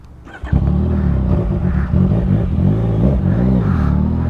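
Motorcycle engine idling and revving steadily up close, a loud continuous low drone with shifting pitch as the rider prepares to take a passenger on the back.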